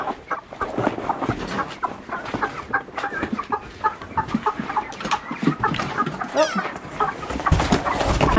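Chickens in a farm coop cluck and chatter continuously, several birds overlapping in busy, close, fairly loud bursts with no pauses.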